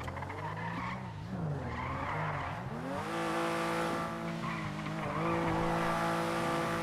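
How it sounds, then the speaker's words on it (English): Racing car engine in a video game revving through shifting pitches while tires squeal and skid, loud and continuous with no talk over it. "All right, let's see how the car sounds before I close it."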